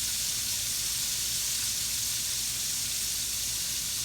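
Catfish fries in a pan of oil with a steady, dense sizzle and hiss, close and continuous throughout.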